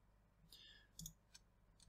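Faint clicks of a computer mouse while working in a Google spreadsheet, a few short isolated taps against a quiet room background, with no talking.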